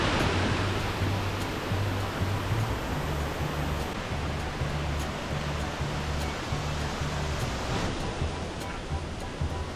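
Leiyin and Longgong waterfalls along the Zhukeng Creek trail in Meishan pour with a steady, dense rush of water, a loud, unbroken roar that holds level throughout with a faint low hum beneath.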